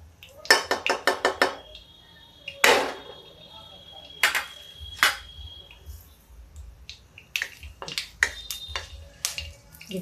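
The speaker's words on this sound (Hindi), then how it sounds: "देखिए ये राई थोड़ा तड़क गई है।" Mustard seeds pop and crackle in hot oil in a home kitchen, giving sharp irregular snaps in quick bursts, with a few louder cracks and scattered utensil clinks.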